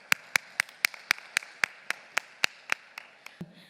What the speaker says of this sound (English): please give a round of applause for all of us